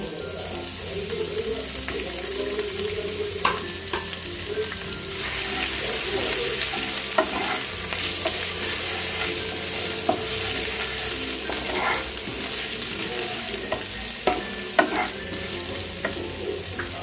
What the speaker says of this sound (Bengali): রসুন কুচিগুলো আমার ভালো করে ভাজা হয়ে গেছে। এবার আমি আদা কুচি দিয়ে দেবো।